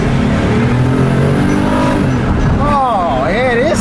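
A 2007 Ford Five Hundred sedan accelerating on a test drive, heard as a steady engine drone from inside the car, with people talking over it throughout.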